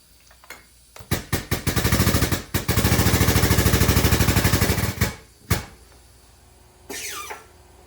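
A Rogue Fab tube bender works steel tubing with a rapid, loud mechanical ratcheting chatter in two long bursts, broken by sharp clunks and knocks between strokes, ending with a short softer rattle.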